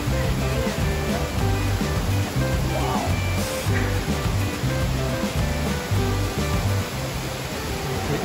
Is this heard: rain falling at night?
no